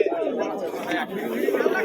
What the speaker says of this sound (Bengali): এইদিকে ঘরের ভেতরে এক জোড়া পায়রা ডাকাডাকি করছে